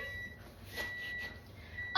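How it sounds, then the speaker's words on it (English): A kitchen food timer beeps in short, repeated high tones at a moderate level, alone over faint room hiss. "And then my timer for my food"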